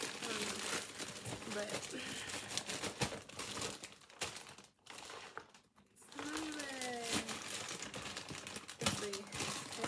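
Plastic packaging bag sealed with tape being crinkled and torn open up close, with steady rustling and crunching throughout and someone speaking briefly over it.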